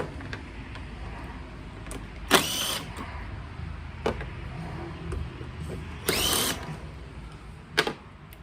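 A power drill drives out screws from a vehicle instrument panel, giving several short whirring bursts separated by pauses and faint handling noises.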